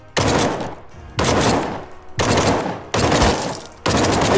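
Gunfire from the video game The Front comes in four loud bursts of rapid automatic fire, each lasting about a second, separated by short pauses and heard close up with no talking.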